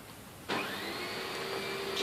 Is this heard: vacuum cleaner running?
yes